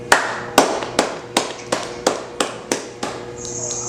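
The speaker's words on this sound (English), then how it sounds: "I want you to clap your hands for Jesus." Church congregation clapping hands in unison, about ten sharp, loud claps in a steady rhythm roughly every third of a second.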